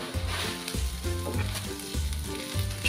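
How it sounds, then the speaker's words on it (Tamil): Chopped onion frying in a pan while cooking wheat adai, giving a steady close sizzle with repeated low thumps and scrapes of stirring throughout. "வெங்காயமும் நல்லா ஃப்ரை ஆகிடுச்சு"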